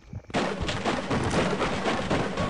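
Rapid gunfire in the video game Half-Life Blue Shift erupts after a brief quiet moment, then continues as a loud, dense stream of shots with a steady pulsing rhythm.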